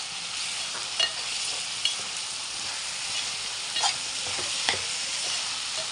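Salted tomato pieces sizzle in a pan while cooking for cabbage curry, a steady close frying hiss with a few soft stirring taps scattered throughout.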